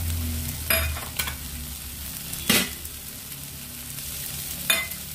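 Fenugreek greens (methi shak) stir-fry in a pan with a steady close sizzle, broken by several sharp scraping strokes as they are turned, and no talk.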